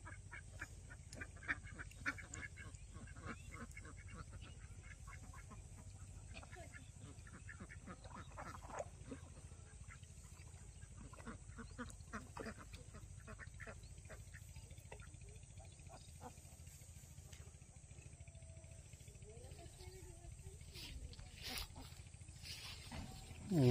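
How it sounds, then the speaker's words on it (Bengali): A duck in a green rice field near water quacks faintly and repeatedly against a steady outdoor background. Frog-like calls and other wild animal sounds are mixed in. "একটি হাঁস রয়েছে,"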